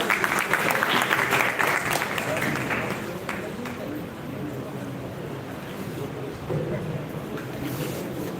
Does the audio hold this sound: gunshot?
no